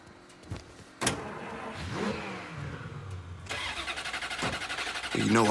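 A car engine starts in the Mafia III video game with a clunk, a cranking whir and a catch, then settles into a steady idle and a rising rev near the end.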